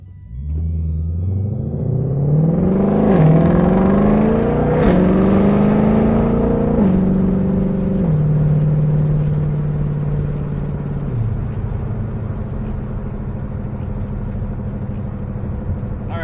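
A 2021 Ford Mustang Shelby GT500's exhaust in track mode rumbles and revs up through several rising pitches, then settles into a deep, steady drone as it cruises.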